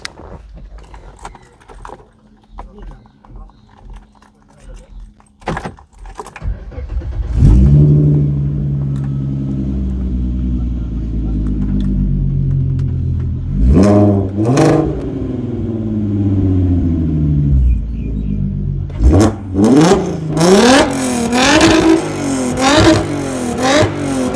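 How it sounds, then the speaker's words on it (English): VW Golf R32 engine with a single-box exhaust: starter and key clatter, then it fires up loud and idles with a deep rumble, followed by several sharp revs climbing and falling, the last ones in quick succession. "Let's hear what she sounds like. One box on the exhaust, so obviously it's gonna be a bit loud, guys."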